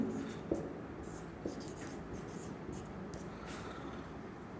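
Pen scratching out a math solution on paper or a board, quiet continuous strokes with a couple of taps, faint and close in a calm room.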